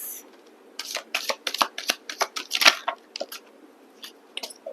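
Tarot cards being shuffled by hand in a quiet room, a steady run of crisp riffling bursts and soft slaps that come close and fairly loud, with no talk over them.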